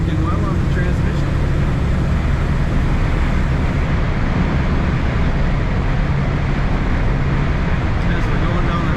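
A 1955 Oldsmobile Super 88 Holiday cruises down the highway, filling the cabin with a loud, steady drone of engine and road noise that holds unbroken throughout.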